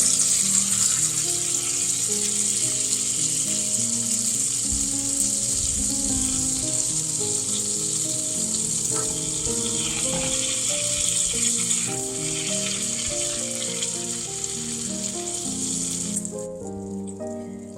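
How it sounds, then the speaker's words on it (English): Steady, loud sizzling of pork chops frying in a skillet over medium-high heat, continuous crackle with a low background hum throughout. "I'm warming my skillet up to medium-high, and it's sizzling now, so let's put these pork chops in."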